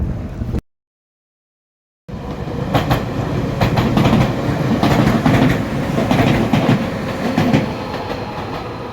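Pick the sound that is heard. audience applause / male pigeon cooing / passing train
passing train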